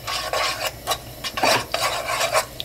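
Minced garlic, a tablespoon, sizzling in two tablespoons of cooking oil in a pan, a crackling broadband hiss with uneven bursts as it's stirred, close and steady.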